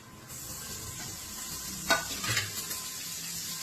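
Green chili, fresh coconut and coriander fry in oil with a steady bright sizzle, broken by a sharp scrape of a spoon stirring the pan and a short burst of louder crackling.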